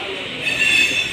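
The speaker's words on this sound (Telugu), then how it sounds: "ఇప్పుడే మనం నాంపల్లి రైల్వే స్టేషన్లోకి ఎంటర్ అవుతున్నాం." A train pulls into Nampally railway station in Hyderabad with a close, loud metallic wheel squeal that rises midway over a steady rumble of rolling stock.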